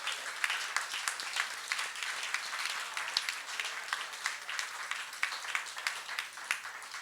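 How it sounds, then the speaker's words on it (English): An audience at a press club award ceremony applauds, a steady patter of many hands clapping at moderate distance throughout, with no speech. "Please stand for applause, New York City News Service."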